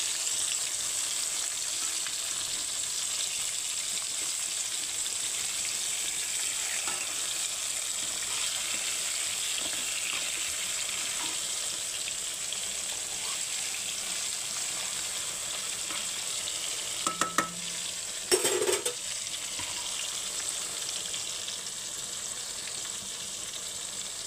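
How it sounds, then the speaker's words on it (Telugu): Food sizzles steadily in a pan over a low stove flame, a continuous soft frying hiss with a couple of brief scraping clinks as a spoon gently turns it, no talking. "ఇప్పుడు స్పూన్ పెట్టి మెల్లగా దాన్ని తిప్పేసుకుందాం."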